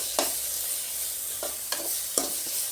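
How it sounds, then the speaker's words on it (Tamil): Coriander leaves sauté in a pan for a thokku relish, with a soft steady sizzle and a few distinct scraping stirs spaced about a second apart, close by and fairly quiet. "கொஞ்ச நேரம் வதங்கட்டும்."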